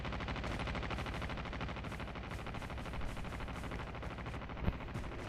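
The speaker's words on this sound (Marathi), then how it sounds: "फायरिंगचा आवाज तिथून येतोय बघा." Dense gunfire crackles in a battle royale video game, rapid bursts of shots blending into a continuous rattle with one sharper report near the end.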